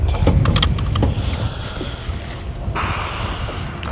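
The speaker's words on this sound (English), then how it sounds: "that is a lot of wind" Strong wind buffets the microphone in continuous loud, low roaring gusts, with a few sharp crackles as it blows.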